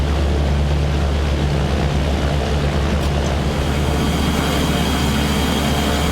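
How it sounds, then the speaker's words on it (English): Simulated aircraft engine run-up at high RPM in a flight simulator, a loud, steady droning roar that holds constant throughout with no talk. "Bring my RPMs up as if I'm doing an RPM, a run up. You can hear what that sounds like in the sim."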